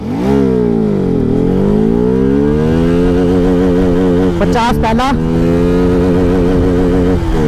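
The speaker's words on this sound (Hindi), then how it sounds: "सेकंड अटैम्प्ट देखते कितनी मेरी बाइक अभी टॉप स्पीड जाती है।" A Bajaj Pulsar RS200 motorcycle accelerates hard toward top speed, its engine note climbing steadily through the revs with a brief gear-change dip midway, loud and close, while a voice calls out speed figures over it.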